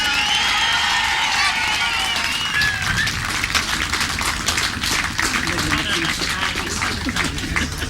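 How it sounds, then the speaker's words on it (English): A grasstrack racing crowd applauds, cheers and whoops for the race winner Joe Screen, a loud, dense wash of clapping with shouts, and an announcer's voice carries over the start. "I want to hear a very big round of applause."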